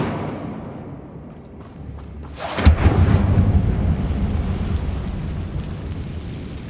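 The Incendio fire spell goes off in Hogwarts Legacy, a sudden loud burst followed by a rumbling, roaring whoosh of flame that sustains for several seconds, with no talking.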